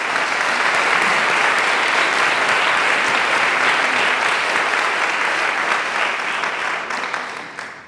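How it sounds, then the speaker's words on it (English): An audience applauding at an evening author conversation event: loud, dense clapping from many hands, sustained for several seconds and then tapering off at the end. "Could we have a round of applause for this amazing community?"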